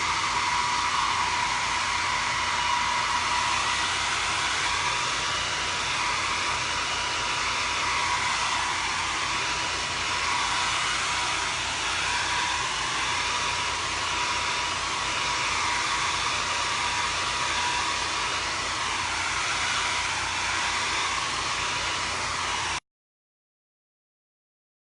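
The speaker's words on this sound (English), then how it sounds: "And then I'm gonna use my blow dryer" A blow dryer roars loudly and steadily while drying a chalk craft transfer on a Halloween treat bag, a constant close whoosh lasting throughout before cutting off.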